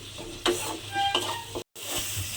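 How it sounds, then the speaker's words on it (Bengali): Spice paste for a jackfruit and prawn curry frying in a pan, soft sizzling with a few spoon scrapes as it is stirred, briefly cut to silence near the end. "এবারে আবারও কিন্তু মশলাটাকে আমাকে খুব ভালোভাবে একটু কষিয়ে নিতে হবে।"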